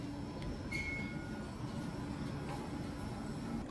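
A rumbling JR train interior between Horyuji and Koriyama stations in Nara, Japan, with steady low-pitched rolling noise and a brief faint squeal early on; no voices.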